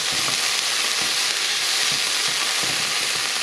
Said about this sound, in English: So we'll fry the bacon off a bit.